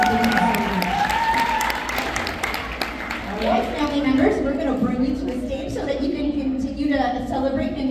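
Applause from an audience at a school academic excellence and dance awards assembly, a sustained round of clapping lasting several seconds with crowd noise and voices mixed in.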